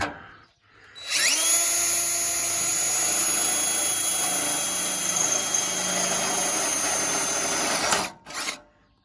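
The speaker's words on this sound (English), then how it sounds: "I can drill a couple holes in that" A power drill whirs steadily at high pitch for several seconds, spinning up sharply, then stops with a brief second burst at the end.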